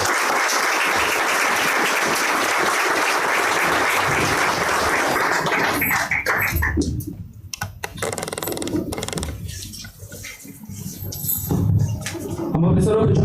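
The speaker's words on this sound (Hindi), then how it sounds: "ताली बजाएं।" A church congregation applauds in a loud, dense burst of clapping that fades after several seconds into scattered claps and quieter room noise, with voices under it.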